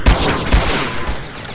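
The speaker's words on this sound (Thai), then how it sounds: "โอ้ยยิงไม่ถนัดเลยว่ะแม" Rapid bursts of gunfire in the GTA video game, two sharp loud volleys followed by a third weaker shot, with heavy low booms and a rattling tail.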